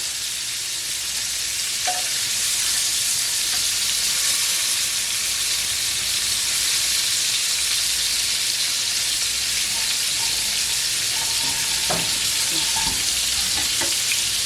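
Pork chops fry on a too-hot front stove burner, a loud, dense sizzle and hiss holding steady throughout, with occasional faint utensil clinks near the end and no speech.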